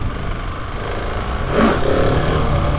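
A brand new KTM 701 Enduro motorcycle is ridden, its engine a steady close drone that swells into a louder rev partway through.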